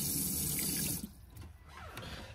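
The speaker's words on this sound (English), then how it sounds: "you're going to get a pressurized flow from the cold side and the hot side" Water running from the sink tap of a Malibu Van 640 LE RB GT campervan, a pressurized flow from the hot and cold side, rushes steadily for about a second and then cuts off to a quiet interior with faint residual trickles.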